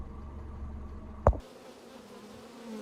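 Honeybees buzzing faintly around a hive after being shaken out in a cottage apiary, a soft continuous drone broken by one sharp knock partway through.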